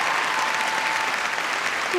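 Crowd applause at a netball match, Samoa against Fiji in the 2019 World Cup play-off, rolls on thick and even, a loud continuous wash of clapping.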